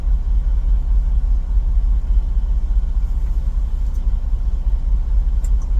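Steady low truck engine rumble heard from inside the cab while driving on the road, continuous and fairly loud throughout with no talking.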